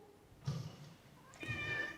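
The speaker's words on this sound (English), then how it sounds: "this is the stray cat with big balls that keeps coming to be fed every day." A stray tomcat meows twice, two short close cries a second apart over a quiet background.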